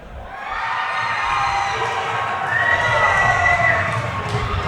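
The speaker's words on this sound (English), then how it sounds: "big pop from the crowd when Jamie Edenden's name is announced" Crowd roaring and cheering as fighter Jamie Edenden is introduced at the Coastal Combat 7 cage event, a loud, sustained swell of shouts and whistles that builds through the moment.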